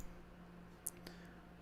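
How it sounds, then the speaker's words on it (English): A single sharp computer mouse click, brief and close, against a quiet background with a low steady hum. "I'm doing too much clicking."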